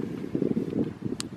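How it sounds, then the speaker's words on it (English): Low, gusty wind rumbles and buffets outdoors, a brief rushing noise with a faint higher tone near the end. "it is quite windy today, which you'll probably hear from the video"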